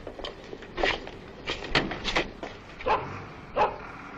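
A small dog yaps in several short, sharp barks spread irregularly through a few seconds, fairly close and moderately loud against a faint room background.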